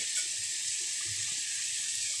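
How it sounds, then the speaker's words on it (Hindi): Cauliflower being rinsed under a running warm-water tap, a steady, continuous hiss of flowing water over a sink, fairly close and unbroken with no talking. "कोशिश करें गर्म पानी में धोएं"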